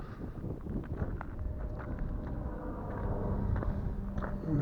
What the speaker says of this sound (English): Pretty breezy. 10-mile-an-hour breeze.